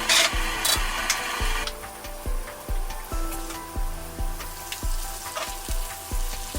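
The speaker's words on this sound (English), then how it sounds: "After the oil is slightly warmed, sausages are added." Sausages sizzle in lightly warmed oil for a Turkish breakfast, a bright hiss that flares at the start, then a steady sputter over a rhythmic low scraping pulse.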